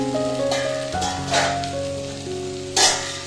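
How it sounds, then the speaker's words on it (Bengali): Vegetables sizzle and crackle as they fry in a pan, with a steady hiss that swells in short bright bursts as they are stirred. "দেখুন সবজিগুলোকে নেড়ে চেড়ে সামান্য ভেজে নিয়েছি।"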